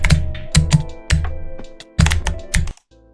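Computer keyboard keys are struck in short irregular bursts of close, crisp clicks and clacks, with brief pauses between groups, ending in quiet.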